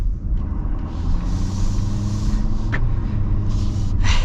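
A 2024 Ford Power Stroke diesel truck engine rumbles steadily while driving, a continuous low drone heard from inside the cab with a brief higher hiss near the end.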